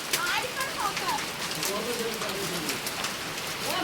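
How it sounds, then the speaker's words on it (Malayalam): Steady hail falls outdoors, a continuous close hiss of tiny impacts with scattered louder hits, while people's voices murmur faintly in the background. "ഞങ്ങള് ലൈഫിൽ ആദ്യമായിട്ടാണ് ഈ ആലിപ്പഴം."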